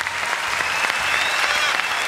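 A brief, dense burst of applause fills a talent-show hall after a parrot act, loud and continuous crowd clapping throughout.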